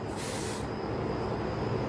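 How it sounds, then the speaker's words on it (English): A perfume bottle gives one short, soft spray hiss, heard close against a faint room background. "Now I'm going to spray a perfume and I bet you can smell it in just a few seconds."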